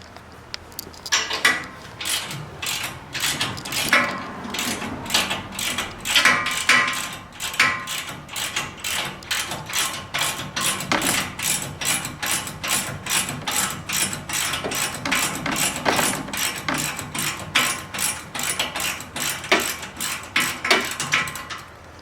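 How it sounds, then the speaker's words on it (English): Continuous rapid ratchet clicking as a wrench backs off the three nuts holding an aluminum OEM bumper on a 3rd Gen Toyota Tacoma, a steady run of sharp metallic ticks, close and loud, with short pauses and no talk. "now we'll be removing the 3 nuts that are holding on the aluminum OEM bumper"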